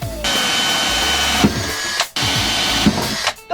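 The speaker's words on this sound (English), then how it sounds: "All right, drill these holes." A steady, high-pitched mechanical whine of a drill boring holes in a plastic panel, running continuously with two brief pauses where it cuts out.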